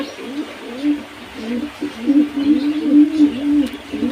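Caged pigeons coo in a low, repeated rhythm, the soft rolling calls running steadily close by with no one speaking.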